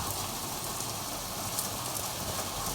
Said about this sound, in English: Look at the rain. Oh my god! Look, see it pitter pattering down there.